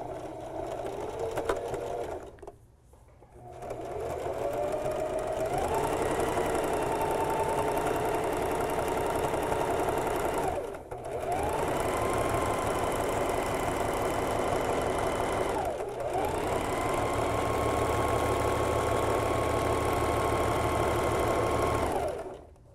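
A sewing machine runs a stretch stitch down the side seam of an upcycled flutter-sleeve tee, whirring steadily and close in three long runs broken by brief stops, with no voices.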